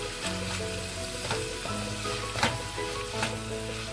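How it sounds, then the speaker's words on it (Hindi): Ginger sizzling in a pan over a low flame while being stirred, a steady gentle frying hiss with periodic soft scrapes of the spoon, close and clear with no talk. "अदरक को हमें हल्की आंच से धीरे धीरे चलाना है, तेज आंच में नहीं भूनना है"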